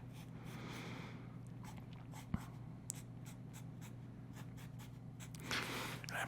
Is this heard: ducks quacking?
no